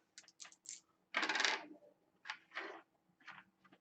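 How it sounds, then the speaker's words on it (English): Three dice rolled onto a tabletop during a tabletop game session, a few light clattering bursts with one longer tumbling rattle, close and fairly quiet, with no talking. "So let's roll these dice."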